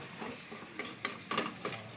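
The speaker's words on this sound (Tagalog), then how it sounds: "Lalagay na po natin ngayon, mga kapatid kabaklay, ang pinisang itlog ng itlog ni Imo." Beaten egg hitting a hot pan and frying, a steady faint crackle with a few brief louder spatters and scrapes, no voices.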